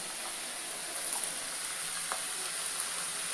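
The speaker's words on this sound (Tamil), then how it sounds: "ஆல்மோஸ்ட் வந்து நம்ம வெங்காயம் நல்லா வதங்கிருச்சுங்க." Steady, fine sizzling of onions frying in a clay pot, a constant crackling hiss with a few faint stirring clinks, no voices.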